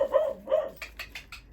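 A dog on an allotment barks in a quick burst, two loud near barks followed by a rapid string of sharper yaps.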